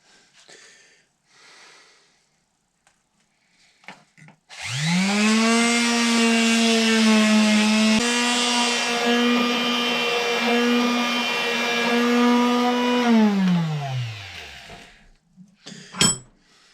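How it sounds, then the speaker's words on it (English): A wooden ball block being sanded under a power tool, a steady whining motor drone that spins up, holds for about nine seconds and winds down, loud and close, with a few knocks before and after. "So they get sanded up pretty good"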